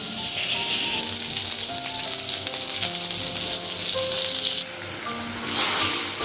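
A mixture of sour yogurt and Kashmiri red chili powder hits hot oil in a pan for paneer and potato curry, giving a loud, sustained sizzle that swells again near the end.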